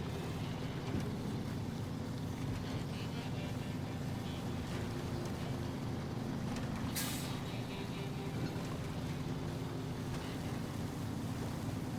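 A heavy truck grinds through deep mud in SnowRunner on the Michigan map, its engine droning low and steady throughout with a brief hiss of air partway through.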